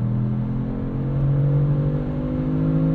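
A 2022 Kia Stinger GT engine drones in a steady, close hum that climbs slowly in pitch as it revs, heard from inside the car with no talk.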